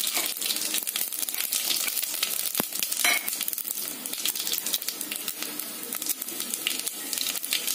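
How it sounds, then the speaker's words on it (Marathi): Whole spices sizzling steadily in hot oil for a chicken biryani, a dense, close, continuous crackle with a few sharper pops and no talking. "त्याच्यामध्येच हा मी खडा मसाला घालत आहे."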